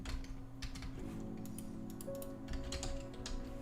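Keys on a computer keyboard being typed on in quick irregular clicks, close and steady, over a low humming tonal background.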